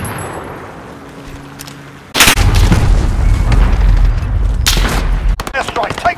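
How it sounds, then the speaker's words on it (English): Airstrike explosions hit in Call of Duty Modern Warfare: after a quieter stretch, a sudden loud boom breaks into sustained roaring blasts, and a second sharp burst follows near the end. "Airstrike, take cover!"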